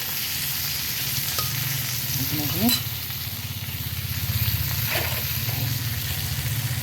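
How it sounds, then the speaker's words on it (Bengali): Pointed gourd slices fry in a pan with a steady, close crackling sizzle running throughout, while a voice speaks briefly near the middle. "পটল ভাজাটা ঢেকে রাখলাম"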